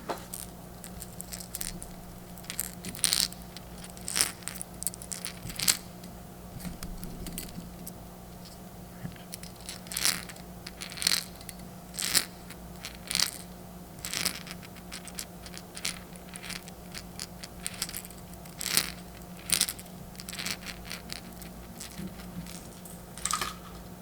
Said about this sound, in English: It has some metal bearings that are actually used for casting, but might be able to get some good sounds out of it.